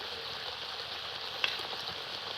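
Roasted spices are sprinkled into a pan of olive pickle, jalpai achar, with a soft, steady sizzle throughout and one brief crisp tick partway through.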